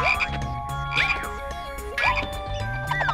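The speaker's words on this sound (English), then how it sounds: "Frogs." Repeated frog croaks, several rising chirpy calls spaced about a second apart over a low, steady background.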